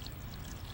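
Water is poured into a cooking pan over pieces of chicken for a cream chicken dish, a brief, soft, steady pour with no voices.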